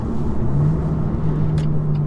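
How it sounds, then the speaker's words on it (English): A BMW M2 CS engine's low exhaust rumble drones steadily while driving, with a sustained low tone and faint road noise. "I tend to like a little bit more amplitude from an exhaust"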